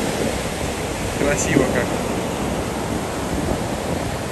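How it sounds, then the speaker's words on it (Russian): Sea waves wash steadily over a golden sand shore in a continuous, close rush of surf, with a person talking softly over it. "И вот видите, волна вот так накрывает"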